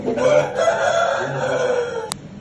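A rooster crows loudly and close by in a drawn-out call, with fowl clucking faintly around it.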